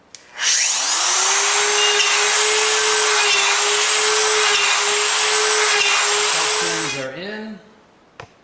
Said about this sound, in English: I like to use a plunge router to put my holes in for the shelf pins